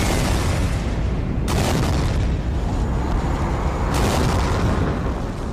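A rocket slams into a spaceship in a great ball of fire, heard as a loud, sustained explosive roar with heavy low rumble, flaring sharply twice across the span, with no talk.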